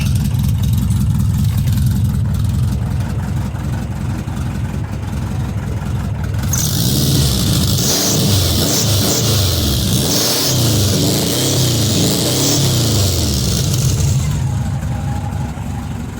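A car engine running loud and drony close by, a constant low rumble that swells into a rougher, revving roar through the middle before easing back.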